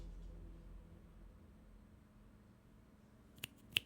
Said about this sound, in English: So when I snap my fingers, watch, I'm not going to talk.